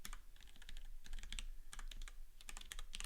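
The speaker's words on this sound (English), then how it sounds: "I can't type even though I didn't change my keyboard, so you've all got to listen to the loud clicking." Loud clicking of typing on a computer keyboard, a fast, uneven run of crisp keystrokes with brief pauses, close and alone with no voices.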